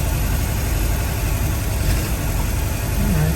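Car engine droning steadily inside the cockpit on a first test drive, a constant low rumble filling the cabin with no pauses and no voices.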